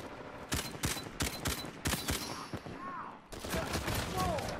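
K95 gunfire in Uncharted 4 multiplayer DLC, a series of sharp evenly spaced shots close by, followed by a short pause and then a denser stretch of firing.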